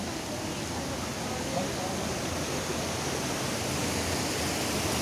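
Strong rush of spring water pouring steadily at a swimming spot, a dense continuous broadband roar filling the whole clip at even loudness with no clear breaks.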